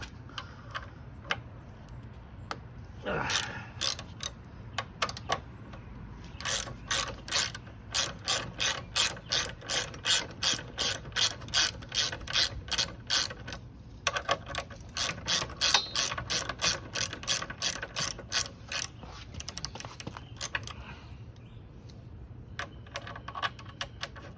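A hand ratchet clicks rapidly in repeated strokes while loosening the front rotor mount bolt on a Zero SR electric motorcycle during wheel removal, close and steady, with a few pauses and no talking.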